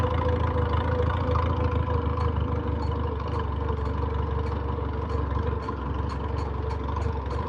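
A tractor engine with a straight pipe idles steadily outdoors, a continuous close, loud low rumble with an even mechanical throb that holds throughout.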